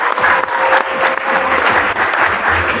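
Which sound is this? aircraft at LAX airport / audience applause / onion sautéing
audience applause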